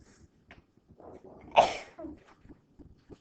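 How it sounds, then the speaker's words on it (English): One short, sharp sneeze bursts out in a quiet room, surrounded by faint breathing and small mouth sounds. "Sorry, I'm going to sneeze."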